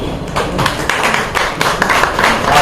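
An audience at a welcoming reception and mushaira poetry gathering breaks into applause for an arriving guest: dense, steady clapping from many hands, loud and close, lasting throughout.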